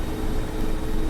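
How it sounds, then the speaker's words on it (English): A Mi-24P Hind helicopter in the flight simulator DCS gives off a steady, dense rotor and turbine roar that stays even and loud throughout. "This is just such a weird little helicopter."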